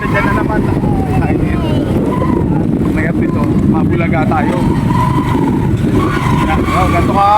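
Motorized tricycle riding along a road in Victoria, Oriental Mindoro, carrying an overloaded group of passengers: a steady, loud engine drone with wind rush, and voices talking over it throughout.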